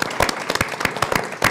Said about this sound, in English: Everyone give Michael a round of applause